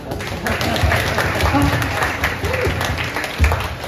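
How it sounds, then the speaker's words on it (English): An audience at a morning book event in Jakarta claps steadily, a scattered but continuous patter of hands mixed with chatter and voices nearby. "Please clap for yourself."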